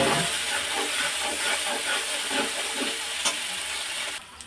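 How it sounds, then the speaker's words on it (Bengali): Whole garam masala spices sizzle and fry in hot oil with a steady, close hiss and crackle, easing off near the end. "গোটা গরম মশলা ফোড়ন দিলাম। মশলাটা সিম করে ভেজে নেব"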